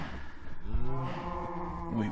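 Cows in Minecraft give a drawn-out, low, wavering moo that carries over two seconds, close and fairly loud, with a second overlapping call near the end.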